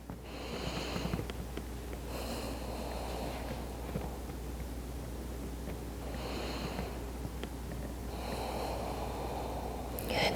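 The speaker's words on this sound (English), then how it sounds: "Deep breaths here." Deep breathing during a yoga flow, slow audible inhales and exhales through the nose arriving in several separated breaths over a faint steady hum.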